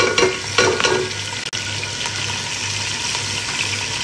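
Onions for white chicken qorma go into a hot pan, starting with a few clattering stirs and then settling into a steady close sizzle and hiss that runs throughout, with no speech.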